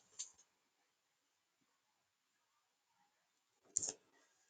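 Two crisp computer mouse clicks, one right at the start and another near the end, separated by near silence in a quiet room while navigating a Google Classroom page.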